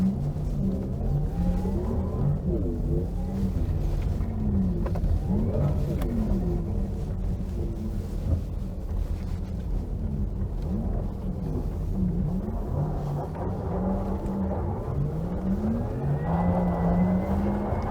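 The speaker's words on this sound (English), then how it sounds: "When you're really showing off your driving skill and the car's ability. We're going around this slalom." Porsche Taycan 4S electric all-wheel-drive car weaving through a slalom in Sport Plus mode on snow and ice, a steady loud drone of motor and road noise with rising and falling whine as it turns, no talking.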